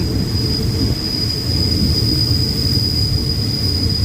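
A railway ballast tamping car and ballast wagons roll past at a station, giving a loud continuous low rumble with a steady high whine running through it and no one talking.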